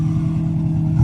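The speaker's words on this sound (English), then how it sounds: "let's get a good rev before we go. Not too high, just a little rev" Honda Integra GSR with a B18C1 engine makes a short, steady engine hum with a brief lift in level at the end, close and alone.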